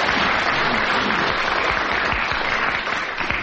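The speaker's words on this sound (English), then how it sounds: "I really think you've got some applause for that." Studio audience applauding at a radio music panel quiz show, a dense, steady clatter of many hands clapping at close range that fills the whole stretch and eases slightly at the end.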